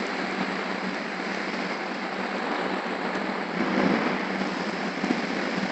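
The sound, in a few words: heavy rain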